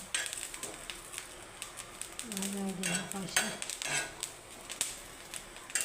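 Chillies roasting in a pan for a chicken biryani, with faint sizzling, metal scraping and clinks of a utensil stirring against the pan, soft and intermittent, with a short murmur of voice partway through.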